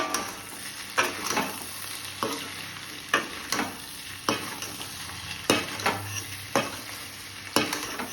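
Chili powder and salt frying in oil in a pan, a steady close sizzle broken by repeated sharp scrapes and clacks of a stirring spoon roughly every second, with no voices.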